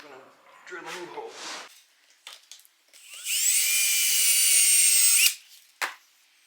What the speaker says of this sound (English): We're going to drill a new hole.